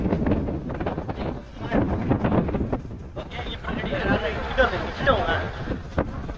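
A boat crossing open sea near Rameswaram, wind buffeting the microphone and a rushing water-and-engine drone, with someone talking over it.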